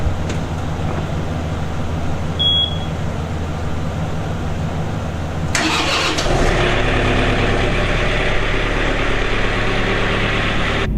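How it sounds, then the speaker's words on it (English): A tractor engine on a cold morning of about 30 degrees cranks over and catches, then settles into a steady idle to warm up. The running is loud and continuous, and it grows fuller partway through. "the tractor's currently warming up"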